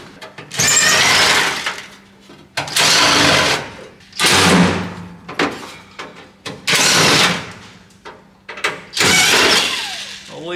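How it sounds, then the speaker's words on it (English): A power driver backing screws out of truck bodywork during rust repair: five loud, whirring bursts, each a couple of seconds long, with short pauses between them, close up and without speech. "Let me get these screws out and we'll see."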